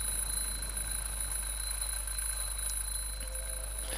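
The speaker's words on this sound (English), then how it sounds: "Well, what is this? We found an alarm clock." An alarm clock rings in the video game The Dream Machine, steady electronic tones held throughout over a low hum, with no voices.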